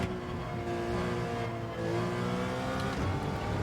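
Race car engine in Gran Turismo 7 or Automobilista, a steady loud drone with shifting harmonics that climb and fall as the car accelerates and eases off through a corner, alone with no talk.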